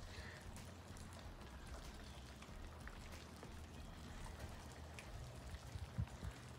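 Rain falls outdoors on a snowy day, a faint, steady patter and trickle with low rumbling background noise and a few soft drops standing out near the end.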